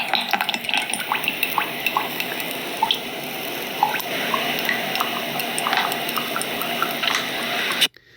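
Liquid poured into a cup while food ingredients are prepared, heard as a continuous trickling, splashing stream with small drips and bubbles, fairly close, cutting off abruptly near the end.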